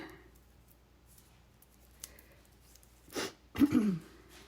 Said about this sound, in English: Not sure why I'm sneezing.